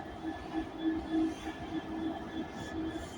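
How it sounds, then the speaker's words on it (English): A Freightliner Class 66 freight train passes on the West Coast Main Line at Carlisle, a steady rumbling roar with faint rhythmic wheel clatter and a thin engine whine, moderately loud throughout. "Freightliner Class 66."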